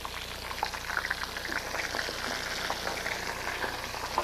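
Shrimp fry in a small pot, giving a steady, dense sizzle with fine crackling pops throughout, close and continuous with no talking.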